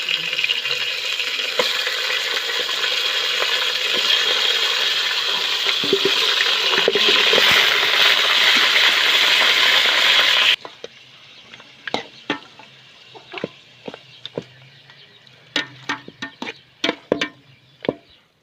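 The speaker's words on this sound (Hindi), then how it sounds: "दोस्तों, अब हम इसमें मटन डालेंगे।" Mutton hitting a hot karahi pan, a loud roaring sizzle for about ten seconds that cuts off, followed by quieter scattered clinks and scraping taps, no voices.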